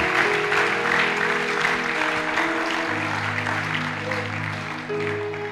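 A church congregation claps at an action worship service, the applause steady and dense under sustained organ or keyboard tones and a voice.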